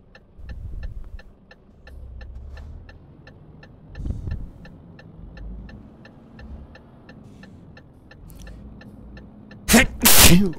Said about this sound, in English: I've got the sneezes as well.